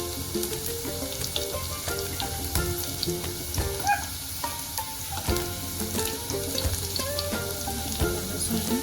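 Red country garlic frying in a pan, a steady close sizzle and crackle that holds throughout with a few light clinks, no voices.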